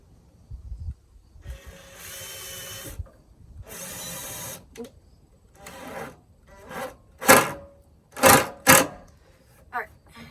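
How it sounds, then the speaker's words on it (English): A Makita cordless compact power drill whirs in two short bursts of a few seconds each while drilling through, followed by a person talking close by. "I will be using my cordless Makita compact drill"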